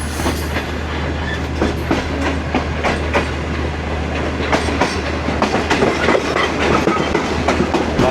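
The Shalimar Express rolls over yard line points in a loud, continuous rumble with rhythmic clickety-clack from the wheels, heard close from on board.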